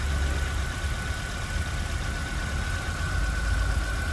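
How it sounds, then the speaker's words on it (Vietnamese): A 2009 Hyundai Getz engine idles smoothly and steadily, a close, even low rumble with a faint higher whine running through it and no speech. "Đây, mình đang nổ máy nhé"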